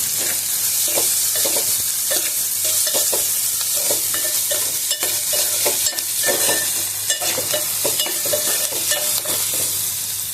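Garlic sizzles in hot oil with onions and curry leaves in a pan for a cauliflower tomato fry, a loud continuous hiss punctuated by rhythmic scraping of a stirring spoon.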